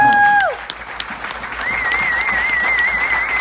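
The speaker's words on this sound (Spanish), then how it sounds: "¿Cuánto le puede dar un fuerte aplauso a todas las mujeres?" Wedding guests applaud together in honor of the women at a pastors' wedding celebration. A steady wash of clapping builds and holds for a few seconds, with a bright sustained whistle-like tone riding over it and a voice at the start.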